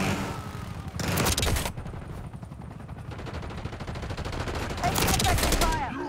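Gunfire rattles through a Call of Duty Black Ops 6 multiplayer match. Two loud bursts of rapid automatic fire bracket quieter ongoing shooting and battlefield noise.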